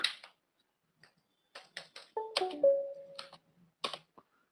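Sparse keystrokes on a computer keyboard, a few quiet separate taps and short bursts of clicks with pauses between, heard close with no talking.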